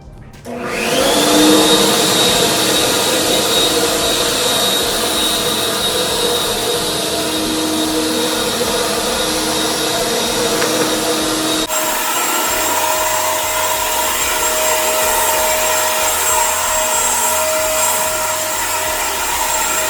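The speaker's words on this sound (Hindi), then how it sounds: "अब इससे कनेक्ट करके फटाफट से ब्लोअर चलाओ।" An electric blower, just attached and switched on to clean a house porch, spins up to a loud, steady roaring whine, then shifts to a slightly different pitch about midway and keeps running.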